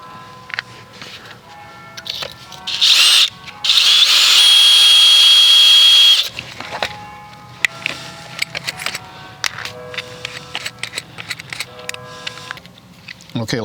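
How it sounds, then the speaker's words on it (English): A power drill bores a pilot hole into brick for a Tapcon masonry screw, giving two loud whining bursts, the second lasting about two seconds. Scattered clatter and a person talking surround the drilling. "So let me get the drill back here."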